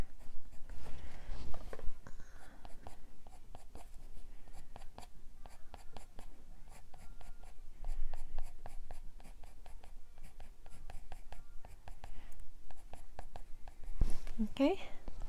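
Soft, scratchy strokes of colored pencil shading lightly over a coloring book page, a fairy and fantasy illustration, repeating in quick close bursts with faint background rustle and a brief louder shuffle near the end.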